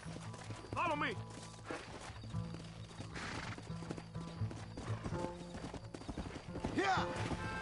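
Rhythmic horse hooves clip-clopping at a brisk pace in Red Dead Redemption, with a horse whinnying a couple of times over busy background music and effects.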